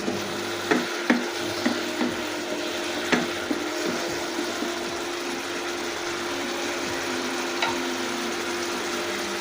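Spice masala being fried and worked in a pan at home, a low steady sizzle with occasional scraping knocks of a spoon against the pan, close and moderate, no voices.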